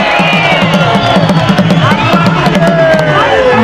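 A dense crowd cheers loudly at a political mass rally on the Heroes Stadium grounds in Zambia while President Hakainde Hichilema addresses them, a continuous roar with whistle- or horn-like tones running through it.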